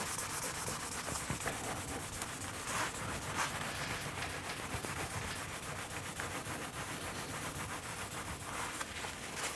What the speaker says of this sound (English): put a bit of lemon oil on the board. I'll just let that soak in for a few seconds before wiping it off